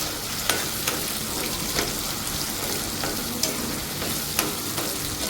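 Tomatoes are stirred and fried in a pan for a garlic tomato curry, giving a steady, fairly loud sizzle with periodic sharp spatters and scraping strokes, with no one talking.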